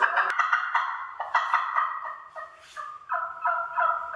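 A handmade game call imitating a wild turkey sounds a string of loud, close gobbles, with rapid rattling bursts repeating in quick succession, alone with no talk.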